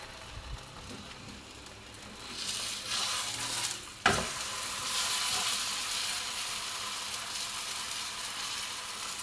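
Moroccan msemen flatbread stuffed with khlii preserved meat fries in a pan with a soft, steady sizzle, with a sharp clatter partway through as it is flipped, followed by louder frying.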